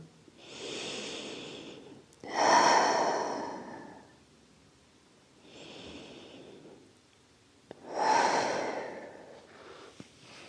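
Slow, deep breathing during a yin yoga full-body stretch: two long rounds, each a quieter inhale followed by a louder, airy exhale, heard close and alone.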